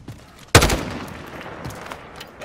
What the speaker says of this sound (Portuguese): Dá os tiros, Paulinho, vai.